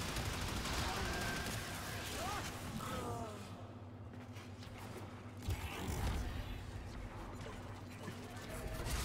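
Gunfire and mechanical weapon clatter in the video game Warframe, dense and continuous bursts mixed with creaks and game effects, with a voice speaking at times.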